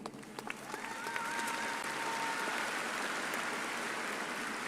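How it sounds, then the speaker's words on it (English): Applause from a graduation ceremony audience, building from scattered claps into a sustained, even wash of clapping at moderate distance, with a faint whistle-like tone early on. "Please hold your applause until all have been introduced."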